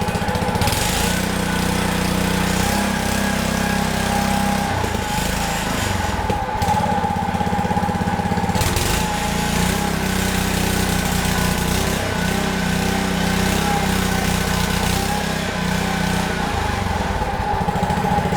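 A Honda 21-inch self-propelled walk-behind lawn mower engine runs loud and close, revving high with a rough, steady roar and a couple of brief dips, with a choke that is not working fully.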